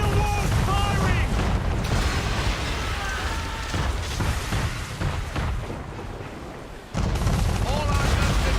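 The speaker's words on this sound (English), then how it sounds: "We're under attack! Man of war's firing!" Broadside of a man-of-war warship's cannons in Assassin's Creed 3, a dense rumbling barrage of booms with crackling debris and chaotic background shouts, loud and sustained before a brief lull and another heavy blast.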